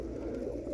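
Roller pigeons coo softly and steadily inside a loft, a low continuous murmur of several birds with no pauses or talking.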